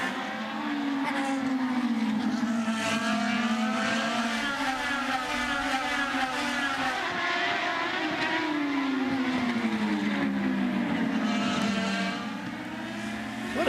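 IndyCar race cars scream past at Mid-Ohio in the 2010 Honda Indy 200, their engines a continuous loud whine that rises and falls in pitch as cars pass, with no gap in the roar.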